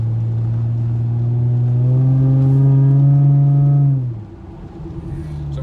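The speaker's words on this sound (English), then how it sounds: "Other than this loud ass car." A loud car engine revs on a quiet morning street in Jackson, Mississippi, holding a steady rising drone for about four seconds before dropping off sharply to a lower rumble.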